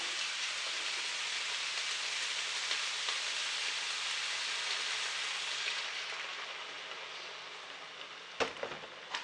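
A splash of water sizzles steadily in a hot pan of heifer liver, a loud, even hiss that holds for several seconds, then eases off before a brief clatter near the end.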